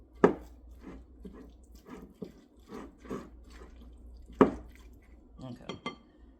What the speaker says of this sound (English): Let me mix this up a little bit. Then I get back in here with the tongs.